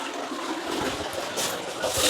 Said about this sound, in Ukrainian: Унітаз працює.